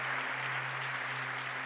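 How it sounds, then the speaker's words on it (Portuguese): Brief audience applause in a church service, a steady wash of clapping heard at a distance, faint and even, with a low constant hum beneath it. "Vamos dar uma salva de palmas para o pessoal aqui"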